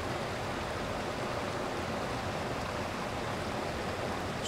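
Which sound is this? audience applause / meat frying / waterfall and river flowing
waterfall and river flowing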